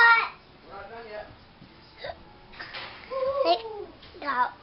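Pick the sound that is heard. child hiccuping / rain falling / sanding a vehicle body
child hiccuping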